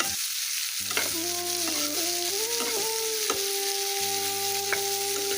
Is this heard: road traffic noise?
no